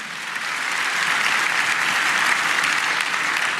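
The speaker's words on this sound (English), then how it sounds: "let's give our Board of Commissioners a round of applause" A crowd applauds the Board of Commissioners at a county address, steady dense clapping from many hands that swells in the first second and holds evenly throughout.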